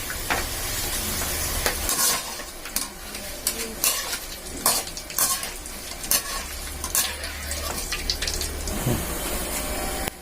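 Pappadam frying in hot oil, a constant loud sizzle with bursts of crackling and occasional clatter and stirring, heard near and without talk.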